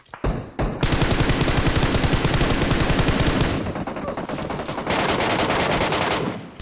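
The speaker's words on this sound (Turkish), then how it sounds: "Baktım bir şarjör sıktım ondan sonra MK'la vurdum" PUBG gunfire rattles off as an emptied magazine of rapid automatic fire, loud and close, followed by more bursts of MK rifle shots with brief gaps between them.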